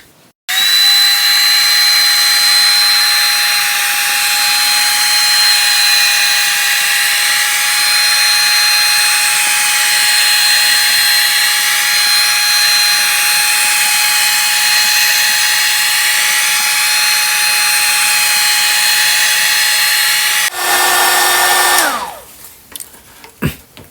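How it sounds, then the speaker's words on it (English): A hot air blower heating the back panel of a phone for display repair, a loud steady high whine that holds for about twenty seconds, then shifts pitch and cuts off. "you'll need a hot air blower"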